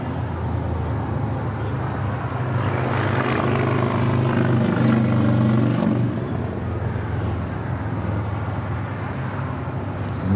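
A Boeing 767-300ER airliner at LAX, bound for JFK, roars loudly and steadily with engine noise swelling through the middle and easing off, a continuous broadband rumble with no clear talk.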